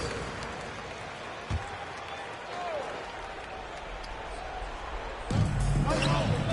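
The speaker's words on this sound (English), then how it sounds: "One more round of applause for your performers" Steady crowd applause and cheering from a large arena in the NBA 2K22 basketball video game, continuous and moderately loud, swelling louder near the end with a deep thud.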